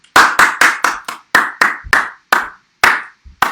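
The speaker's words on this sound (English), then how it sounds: "give yourselves a round of applause" A group clapping hands at the close of a live gentle exercise session: about a dozen crisp, close claps with irregular spacing, each sharp and ringing briefly, with no talk.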